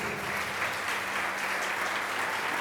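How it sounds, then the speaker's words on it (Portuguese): A large church congregation claps continuously during a service, a dense, even wash of applause filling the room without pause. "Quero pedir uma salva de palmas para Jesus."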